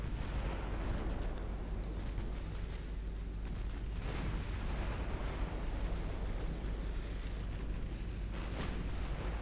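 Secondary 6-inch naval guns on a warship firing in a continuous dense barrage, deep rumbling booms overlapping with heavier reports around the four- and nine-second marks, loud and sustained with no talk, in the Ultimate Admiral Dreadnought naval game.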